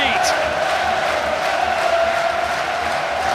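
A football crowd at a Notts County v Grimsby Town match applauds a goal, a dense, sustained roar with a ringing chant-like tone running through it, and a commentator's voice sits over the noise.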